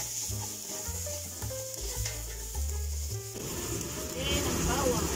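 Chopped onion dropped into hot oil in a cooking pot for pumpkin soup with corn starts a loud, steady frying hiss partway through, following quieter stirring and kitchen noise.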